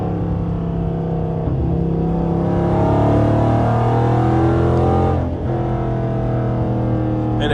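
Dodge Charger R/T engine being downshifted with the paddle shifters, a steady loud drone heard from inside the cabin, with the pitch shifting as revs rise and then dip briefly near the end.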